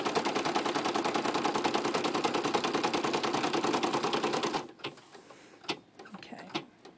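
A sewing machine double-stitches a seam on the torso of a stuffed bear, running in a fast, steady rattling burst for over four seconds before stopping, followed by a few soft clicks and handling noises.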